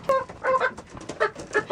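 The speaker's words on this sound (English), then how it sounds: "Had to separate my large rooster over here." A large rooster lets out a short burst of clucking calls, several quick rhythmic notes close by and fairly quiet, with no talking.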